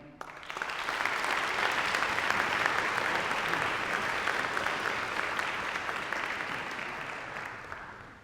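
Audience applause for a string quartet after a performance of Webern's Fünf Stücke, a dense, steady clapping that swells quickly at the start and holds for several seconds before slowly tapering.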